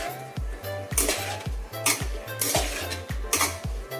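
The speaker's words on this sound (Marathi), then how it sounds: "सर्व मसाले वर खाल करून मस्तपैकी याला मिक्स करायचं आहे" A spoon scrapes and clinks against a pot while stirring a spiced masala mixture with chicken for biryani, with regular rhythmic strokes about twice a second, close and fairly loud.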